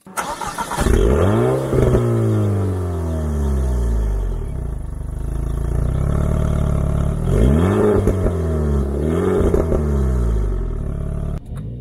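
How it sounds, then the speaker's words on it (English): A car engine growls and revs close by, its pitch sweeping up and down in repeated throaty surges with a deep rumble underneath. "You can hear that nice growl."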